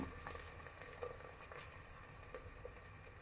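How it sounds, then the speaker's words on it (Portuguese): Chopped tomatoes sauté with onion and olive oil in a pan, giving a steady close sizzle and crackle with occasional soft scrapes of stirring. "Agora vamos acrescentar os tomates. Vamos dar uma refogadinha aqui."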